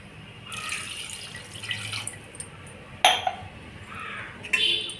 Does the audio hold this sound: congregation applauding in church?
no